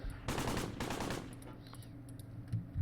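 Soldiers' machine-gun fire in the WWII strategy game Close Combat Gateway to Caen: two dense rattling bursts up close, then scattered fainter distant shots.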